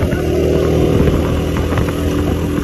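A motorcycle passes close by on a road, its loud engine droning and rumbling steadily for a couple of seconds with no talk.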